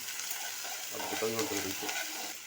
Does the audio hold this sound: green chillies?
yes